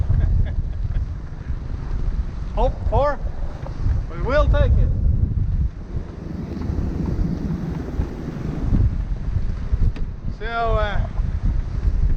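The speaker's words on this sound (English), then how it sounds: "Always windy here, so we have good winds." Steady gusting wind roars across a Bavaria 41 sailboat under sail at about 8 knots on a windy fjord, a constant rushing and buffeting under a voice talking throughout.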